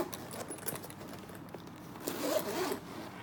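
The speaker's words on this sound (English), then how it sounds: "and zip it" A zipper being drawn around a hard plastic watch travel case, heard as close, quiet zipping rasps with a light jangle, swelling briefly louder toward the end.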